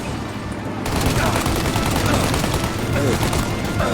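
A shootout in Mafia: Definitive Edition with dense, continuous gunfire and machine-gun bursts forming a loud, crackling wall of sound, voices shouting beneath it.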